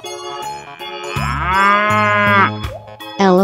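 A cow moos several times in a row, loud and close, with long drawn-out lowing calls and a final short moo, with no other sounds.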